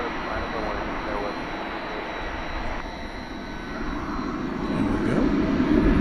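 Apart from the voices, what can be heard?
American Airlines jet taking off from runway 18 left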